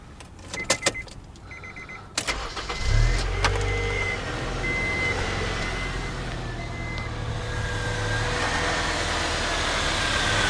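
A Honda CR-V engine with newly replaced rocker arms cranks briefly and catches, then settles into a steady, close, even idle that keeps running to the end, with a few clicks just before the start.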